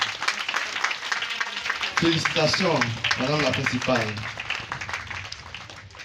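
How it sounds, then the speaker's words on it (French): Audience clapping fills a school welcome ceremony for new sixth-grade pupils at a French collège, a steady broadband patter running throughout while someone speaks over it. "Applaudissez votre"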